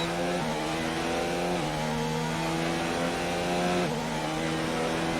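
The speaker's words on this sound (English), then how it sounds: "Just listen to the engine pick up" Racing car engine in a sim racing game at the Austrian Grand Prix, a loud, continuous high whine climbing in pitch through the gears, with two upshifts stepping the tone down before it rises again.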